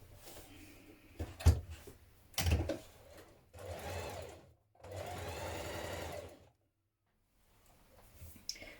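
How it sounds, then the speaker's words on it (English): A domestic sewing machine stitching trouser leg pieces runs in two sustained close bursts of rapid whirring, preceded by a few sharp clunks and clicks of handling, then stops into near silence. "Now I'm sewing the bottom trouser legs on to each trouser leg piece"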